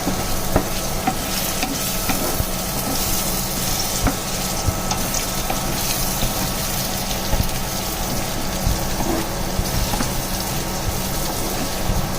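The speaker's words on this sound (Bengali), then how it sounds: "দেখুন চিচিঙ্গাগুলোকে আমি সুন্দর করে ভেজে নিয়েছি" Chopped snake gourd sizzles steadily in a hot pan, a continuous crackling fry with occasional scrapes of stirring, close and fairly loud with no talking.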